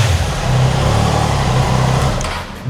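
A Triumph Tiger motorcycle with an inline-three engine idles and revs at a used superbike market in Delhi, a steady refined drone with a whistling edge that eases off near the end.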